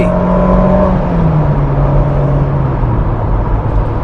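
A Citroën BX 16V pulls hard along a dual carriageway, its engine note climbing steadily and loud from close inside the car, with a steady whir of road noise beneath.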